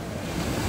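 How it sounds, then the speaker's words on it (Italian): Rough surf pounding against a rocky cliff shore, a steady loud wash of breaking waves mixed with wind buffeting the microphone, no voices. "Ecco qua le onde."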